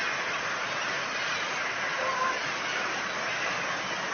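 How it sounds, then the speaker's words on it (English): Birds that sound like geese or other fowl call loudly near a house porch, forming a dense, continuous chorus of honking cries that stays at a constant level throughout. "ever since this lockdown happened, the birds have been going crazy"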